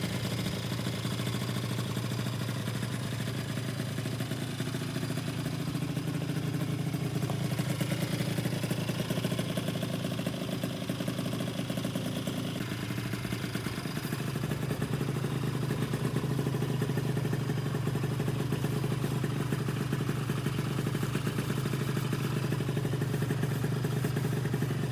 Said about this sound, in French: par la chauffe du moteur et par les vibrations justement que va causer le scooter